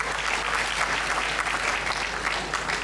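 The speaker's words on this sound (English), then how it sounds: "I think we deserve a round of applause" A conference audience in Ondo State, Nigeria gives a round of applause, dense continuous clapping from a large crowd filling the room at an even level throughout.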